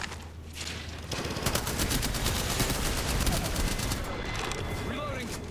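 Video game gunfire rattles in rapid automatic bursts during a shooter match, dense and continuous over a constant din of game sound.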